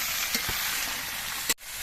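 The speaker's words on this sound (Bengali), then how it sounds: "বেশ কিছুক্ষণ ভেজে নিতে হবে সবজিগুলো" Vegetables fry in a pan for a curry, giving a steady close sizzle, with a couple of soft knocks and a brief clatter near the end.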